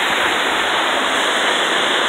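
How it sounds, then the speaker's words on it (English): Kaaterskill Falls in the Catskills of New York roars as a loud, steady, broadband rush of falling water, close and unbroken, with no voices. "Supposedly the tallest waterfall in New York State."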